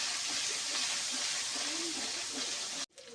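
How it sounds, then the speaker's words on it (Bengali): Ground chilli, garlic, cardamom, garam masala and cumin paste is sautéed in a pan for a chicken curry with bottle gourd, a continuous loud hiss and sizzle that cuts off abruptly near the end. "দিয়ে এবার একটা ভালো করে কষাই নেব"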